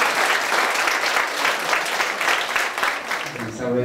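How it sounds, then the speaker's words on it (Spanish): Wedding guests in a church applaud the newly married couple with dense, continuous clapping that fills the clip. A voice begins to speak near the end. "Les damos un fuerte aplausote a nuestros hermanos."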